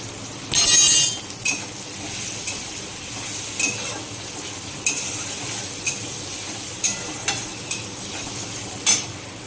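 A spatula stirs a sizzling tilapia curry base of fried onion, tomato and green chili as salt and turmeric go in, with a loud scrape and clatter at the start, then steady frying hiss broken by repeated clinks against the pan.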